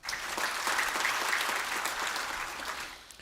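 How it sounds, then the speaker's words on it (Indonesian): Steady applause from a church congregation at a sermon, dense clapping that holds for about three seconds before tapering off, with no voices over it. "Kita beri tepuk tangan."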